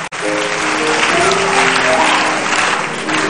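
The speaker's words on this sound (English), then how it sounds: "Clap your hands, everybody." A live audience at a youth conference claps hands in sustained, dense applause that fills the clip at full loudness from start to finish.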